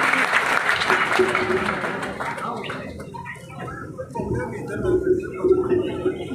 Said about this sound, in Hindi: एक बार जोरदार तालियां बजाइए आदरणीय सुरेंद्र शर्मा